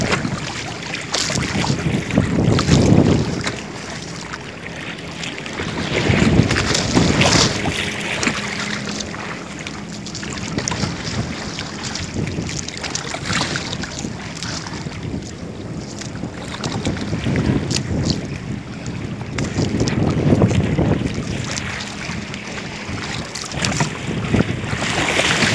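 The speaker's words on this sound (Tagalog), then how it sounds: "Maalon, maalon sa laot." Rough sea heard from aboard a fishing boat, with heavy wind buffeting the microphone and surging waves rising and falling in loud swells throughout.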